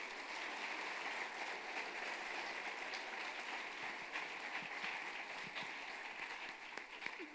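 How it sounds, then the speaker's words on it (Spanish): An audience at a conference breaks into sustained applause, a thick, even roar of many clapping hands that sounds fairly distant and quiet, with no talking. "yo quiero pedir un súper aplauso para Juan Pablo y Alejo."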